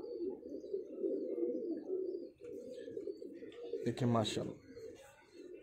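Pigeons of a prized fancy bloodline coo steadily in a low, rolling murmur through most of the stretch, close by, with someone speaking briefly over them near the end.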